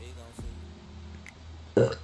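A single short, loud burp from a VTuber after eating too much, bursting out near the end after quiet room tone and a brief earlier sound.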